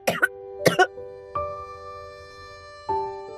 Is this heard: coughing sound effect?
yes